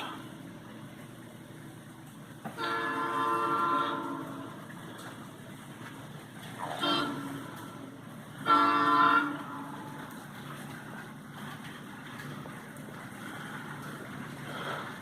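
Model railroad with Alco PA diesel locomotives: a low running rumble throughout, broken by three short horn blasts, the first and last longer and louder.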